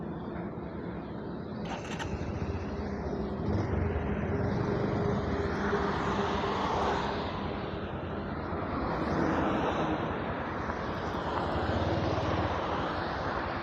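Petrol engine of a bike, scooter or car running on fuel mixed with a fuel saver additive, a steady broadband drone that holds at an even level throughout with no pauses.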